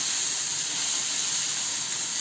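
Ground chili sizzles in hot oil with popped mustard seeds and cumin, a steady bright hiss that runs unbroken and close for the whole stretch, with no voices.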